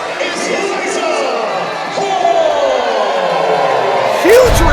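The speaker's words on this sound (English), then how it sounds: "Huge reaction from this crowd for Liza Hall." Wrestling crowd in Vancouver, Canada cheering loudly for a women's wrestler's entrance, a sustained roar with whoops and shouts under a commentator's voice and entrance music.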